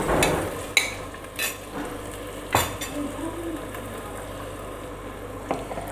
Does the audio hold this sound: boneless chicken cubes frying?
yes